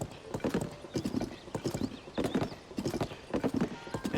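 Hooves of a large horse pound in a fast, steady gallop in Zelda: Tears of the Kingdom, the rhythmic clip-clop close and continuous throughout.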